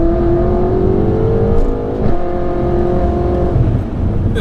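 A 1000bhp BMW M5 accelerates hard on a night drive, its engine note droning loud and steady from inside the car and rising gradually in pitch with no talk over it.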